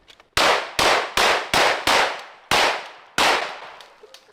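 A series of sharp, loud gunshots fired into the ground, seven in quick succession with slightly uneven spacing, each ringing out and decaying briefly.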